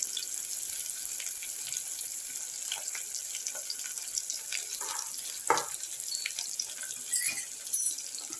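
Large chunks of onion sizzle and fry in a pan, a soft steady crackle with occasional scraping stirs and clinks, close and fairly quiet.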